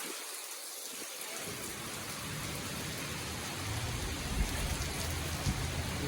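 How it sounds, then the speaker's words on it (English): Steady rain hisses down in a broad, continuous wash, starting from near quiet in the first second and then holding constant and fairly loud throughout, with no voices. "Oh, now it's raining over here."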